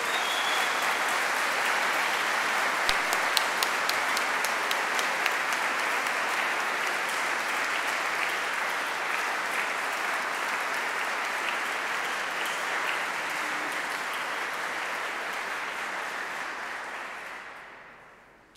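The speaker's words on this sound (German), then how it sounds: "Was ein guter Zeitpunkt ist für einen Applaus für die Pfadfinderinnen und Pfadfinder." Sustained applause from a large audience fills Ratzeburg Cathedral for the scouts during a festive service, a dense even roar of clapping that holds steady for over fifteen seconds before fading out at the end.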